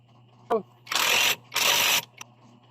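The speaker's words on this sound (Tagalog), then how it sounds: "higpitan muna natin ito gamit ang ating electric impact wrench" An electric impact wrench tightens the drive face nut on a Honda Click 125 scooter, with two loud rattling hammering bursts of about half a second each and a few brief clicks around them, close up.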